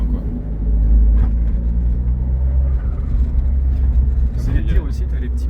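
A coupé car cruises gently at low speed, its engine a deep, steady rumble with soft road noise close by, while someone talks throughout.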